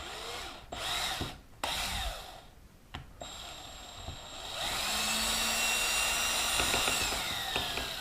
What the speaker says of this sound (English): with our drill 1/4 inch bit, maybe a little larger, we're going to drill 2 holes right in front of the rail